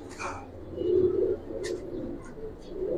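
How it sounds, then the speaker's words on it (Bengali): Pigeons in a loft crowded with fancy, racer and Giribaz birds, giving soft low throaty coos at close range, with a few brief chirps and flutters around them. "আর চারদিকে আসলে কবুতরে ভরা, দেখেন একেবারে কবুতর আর কবুতর।"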